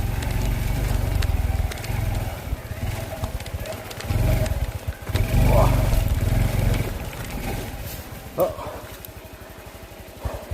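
A Honda CT125 motorcycle rides up a sandy, silty creek bed, its engine a steady low drone that dips and surges unevenly, with a few brief louder bursts; no one speaks.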